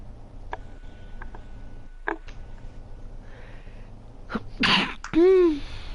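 A single sharp sneeze bursts out near the microphone in a quiet room, preceded by a few small ticks and clicks and followed by a brief tonal sound.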